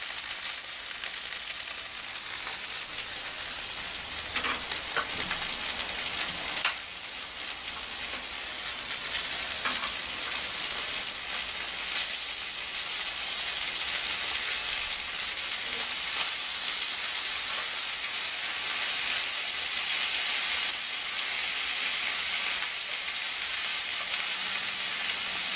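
Kangaroo fillet sears in hot olive oil in a pan, giving off a loud, steady sizzle and crackle that runs without a break, with no voices over it.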